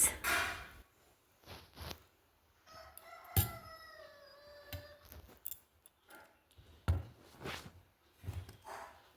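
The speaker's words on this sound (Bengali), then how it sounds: "ব্যাকগ্রাউন্ডে অনেক আওয়াজ পাবে, মুরগি ডাকে, কাজের আওয়াজ" Chickens and a rooster crow and call in the background of a home kitchen where sweet yogurt is being made, a drawn-out crowing call rising over scattered clatters and knocks of household work, moderately distant and with no talk.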